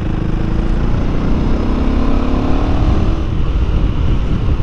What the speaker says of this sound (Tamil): sound exhaust note